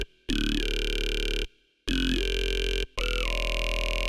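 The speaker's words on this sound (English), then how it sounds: "There are some sounds that are like with formant as well, so they talk a little bit." Talking formant synth bass from a drum and bass sample pack for dancefloor club tracks, three loud sustained notes with vowel-like sweeps, separated by short gaps of silence.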